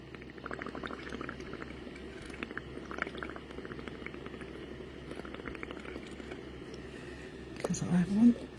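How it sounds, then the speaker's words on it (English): Bubbling liquid while making bubble paint backgrounds, a soft, continuous fizzing and popping close by, with a louder burst of bubbling near the end. "I'm going to do some more bubbling."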